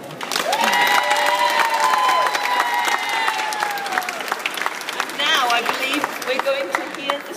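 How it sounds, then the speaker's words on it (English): Children and adults clap and cheer for the winners of a Fair Trade song contest at Llantilio Pertholey, with dense, loud clapping and some high shouts and voices over the top. "And should we give you a great big clap?"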